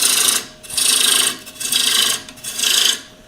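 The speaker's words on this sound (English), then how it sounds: "So let's get rid of some of this wood" A turning tool cuts away wood on a lathe during a live woodturning demonstration, shaping a tenon: four loud, rasping scrapes, each about half a second long, separated by short pauses.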